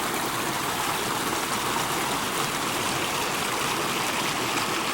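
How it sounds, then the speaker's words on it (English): Mountain creek running southwest through a snowbank toward a pond, a steady, even rush and babble of water with no voices. "Creek flows along pretty good."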